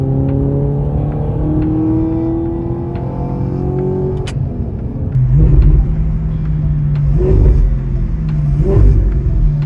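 An Audi R8 V8 engine revs loudly and close, with pitch sweeping up through the gears before it settles into a deeper, heavier roar that swells and eases several times.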